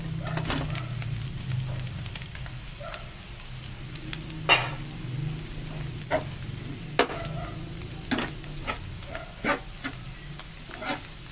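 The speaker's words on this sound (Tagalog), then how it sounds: "Halo na natin itong isda." Fish stirred in a sizzling frying pan, a steady low frying hiss with scattered scraping clicks and taps of the utensil against the pan, close and moderately quiet, no talking.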